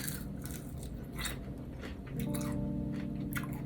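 Close crunchy bites and chewing of fried chicken wings from a food truck, with a steady low hum of background noise throughout and no talking.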